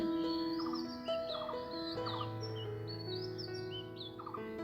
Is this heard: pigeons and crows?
yes